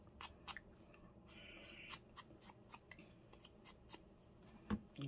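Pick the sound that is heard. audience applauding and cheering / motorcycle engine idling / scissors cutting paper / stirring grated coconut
scissors cutting paper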